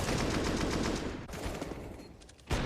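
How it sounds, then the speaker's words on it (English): Rapid, close gunfire from a CS:GO match, a dense run of shots for over two seconds, then a brief lull and one more loud burst. "Look at some of these shots here from Mantu."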